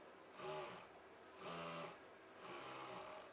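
A sewing machine stitching fabric runs in three short, even bursts of rhythmic mechanical whirring, close and fairly quiet, with brief pauses between runs and no voices.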